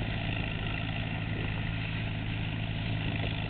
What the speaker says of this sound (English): Look right in the front of the baling machine, behind the tractor.